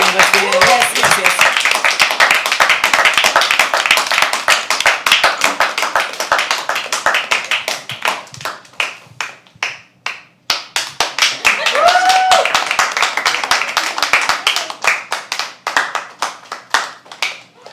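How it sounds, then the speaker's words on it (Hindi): An audience at a poetry open mic claps for performers, a dense burst of handclaps that thins to scattered claps, swells again, then trails off, with a voice talking over parts of it. "जोरदार तालियां प्रियांशी और अभिन के लिए।"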